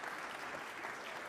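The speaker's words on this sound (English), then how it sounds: "give a big round of applause to our panelists for a stellar contribution" Applause for panelists at a conference session on social protection, a soft, steady patter of clapping from a modest crowd, faint and continuous.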